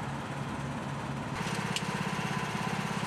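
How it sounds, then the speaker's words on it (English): An engine-driven grout mixer runs at a steady mid-pitched drone, mixing MasterFlow 648 CP Plus resin grout in a pail, with a rhythmic chugging that grows slightly louder and more pulsing partway through, no voices present. "Adjust mixer speed to half throttle or approximately 40 to 60 RPM."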